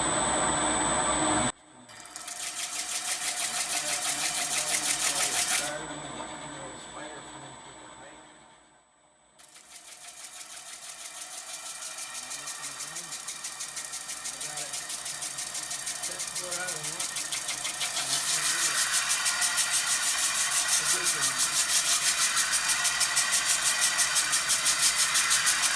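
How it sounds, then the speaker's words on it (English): A wet wheel grinder runs with a steady, loud whine and watery hiss, cutting out briefly twice before resuming and growing stronger toward the end, with some talk beneath. "The wheel grinder pad is nice and wet. I'm just going to grind this."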